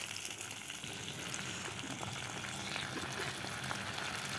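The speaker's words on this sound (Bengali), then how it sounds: "এই তো আমার পেঁয়াজটা ভাজা হয়ে গেছে" Onions frying in a pan on a stove: a steady, soft crackling sizzle that holds evenly throughout at a modest level, with no one speaking.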